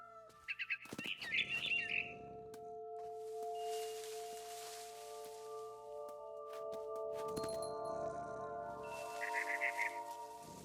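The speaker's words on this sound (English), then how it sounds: "Then I heard chirping outside my window. It was a barn swallow going back to her nest." Short bright chirps from a barn swallow in the game What Remains of Edith Finch, in two small bursts at the start and end over a soft sustained musical tone, fairly faint and close.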